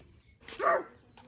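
A single short dog bark, close and moderately loud, in an otherwise quiet room.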